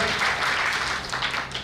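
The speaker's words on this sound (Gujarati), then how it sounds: "જોરદાર તાળીઓ થઈ જાય બંને પાત્રો માટે" An audience applauds after a village play performance, a short dense burst of clapping heard close and steady, with no talking.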